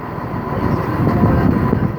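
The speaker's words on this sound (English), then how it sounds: "here comes my train" A British Rail Class 158 diesel train pulls into Shrewsbury station, giving a steady low rumble and rolling wheel noise that swells slightly as it draws near.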